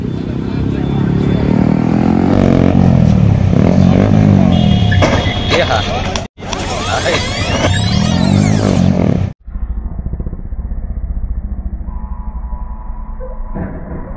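A KTM RC 200 motorcycle circles nearby with a loud, steady engine drone and shifting pitch, broken by two sharp cuts, with crowd chatter and voices underneath.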